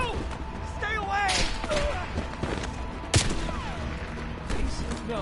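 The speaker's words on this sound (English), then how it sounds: "They're shooting at us!" Gunfire in the video game Call of Duty Black Ops Cold War: rapid bursts of shots crack and thump through the scene, with a loud single report midway, under frantic panicked voices shouting and pleading.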